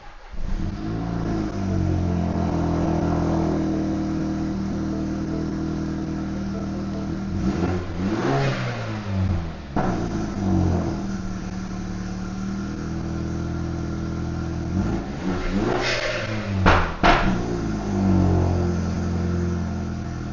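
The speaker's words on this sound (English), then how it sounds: "Start it up, make sure it idles okay." A car engine, just back together after repair work on the map sensor, runs steadily with a low idle rumble and a couple of sharp revs partway through, close and continuous with no talking.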